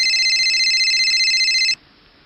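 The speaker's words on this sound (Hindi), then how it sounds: "किसका फोन आ गया?" A phone ringing close and loud with a steady electronic trill that stops abruptly after under two seconds, followed by near silence.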